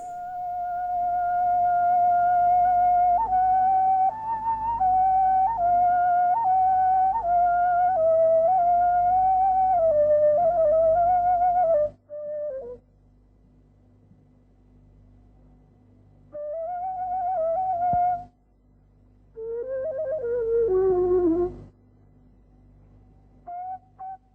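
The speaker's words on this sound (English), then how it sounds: "Ney sounds like this." A breathy reed flute plays long sustained, wavering notes, then stops and returns in a few shorter phrases with sliding pitch, solo and close.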